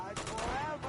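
Gunfire aimed at the player in Uncharted 2, a few quick broadband bursts of shots over roughly a second, fairly close, with a brief voice under the shooting.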